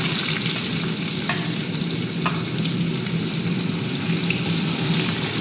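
A large red onion sizzles loudly in a pan, producing a dense, even frying hiss with a couple of faint clicks from stirring, steady and close for the whole stretch, with no one talking.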